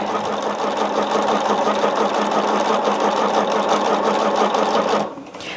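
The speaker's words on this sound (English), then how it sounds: "So what I'm doing, I'm just going to be sewing." A sewing machine stitches a quilt test block, a loud, fast, steady whirring hum of the running needle that stops abruptly near the end.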